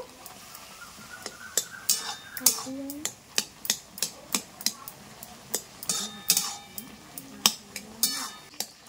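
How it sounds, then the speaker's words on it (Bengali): Boiled mangoes for a jelly chutney are mashed in a metal pot, a run of regular clinking knocks and scrapes of the utensil against the pot, with a voice talking over parts of it. "ভালো করে আমগুলোকে গলে নেব"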